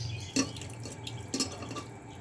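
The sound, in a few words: pouring a little water onto mutton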